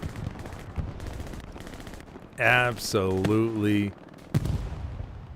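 Gunfire rattles against a Panzer IV tank in the game Hell Let Loose, with bursts of shots and sharp impacts through the first half, then a voice speaking loudly over them before one more crack near the end.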